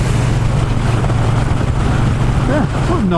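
A Triumph T120 Bonneville motorcycle engine thrums steadily while riding, a continuous low drone mixed with wind rush, with a brief voice near the end.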